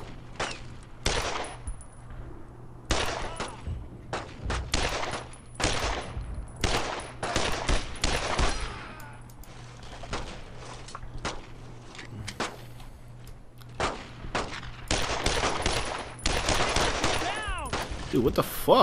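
Gunfire in the World War II shooter Brothers in Arms: Road to Hill 30 comes in repeated sharp bursts and single shots, loud and close, separated by short quiet gaps.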